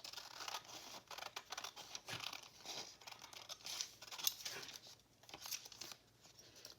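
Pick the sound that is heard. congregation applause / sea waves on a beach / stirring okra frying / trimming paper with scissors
trimming paper with scissors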